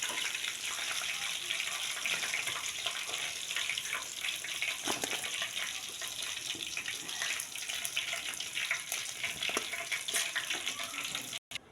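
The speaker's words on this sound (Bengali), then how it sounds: "দেখো এখানে আমার কিন্তু সোয়াবিনগুলো ভাজা হয়ে গেছে।" Soybean chunks fry in hot oil in a home kitchen, giving a dense, continuous hissing sizzle with occasional crackles, close and steady throughout with no talking.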